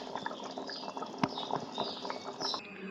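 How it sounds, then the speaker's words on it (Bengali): Pointed gourd simmers in a mustard gravy, a continuous soft bubbling with faint pops and liquid burbles, close and steady with no voices. "এবার একটু কিছুক্ষণ ফুটিয়ে আমি নামিয়ে নেবো"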